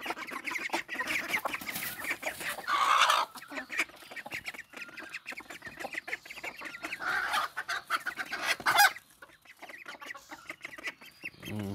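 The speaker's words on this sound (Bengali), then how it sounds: "এই যে এখানকার হাঁস মুরগিগুলো ছেড়ে দিব এখন। এরা কি কি পরিমাণ করতেছে দেখেন, আওয়াজটা শোনেন শুধু।" Ducks and chickens just let out of their coop, a busy flock of clucks, quacks and squawks overlapping continuously at close range, with a louder burst of calls partway through.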